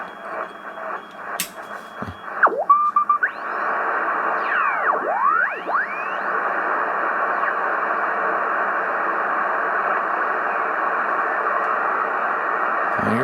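Low static and tuning noise come from a vintage Realistic DX-160 shortwave radio, a steady hiss with whistling, sweeping heterodyne tones and a few brief clicks early on as the dial is turned.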